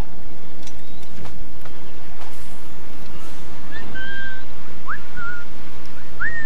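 In the Assassin's Creed IV Black Flag video game, a character gives a few short whistles to lure enemies, each a brief rising tone over a low ambient game soundscape, with some faint clicks earlier.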